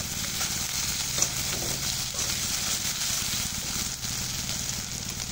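Ginger garlic paste frying with lightly fried chopped onion in a pan, a dense continuous sizzle with occasional stirring scrapes, close and fairly loud.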